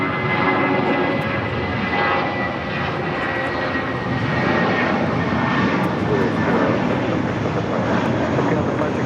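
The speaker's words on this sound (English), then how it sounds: "That was JetBlue Airways. Flight 806 taking off to Seattle." A JetBlue Airways jet airliner taking off from LAX, its engines producing a steady, loud, broadband roar that holds throughout.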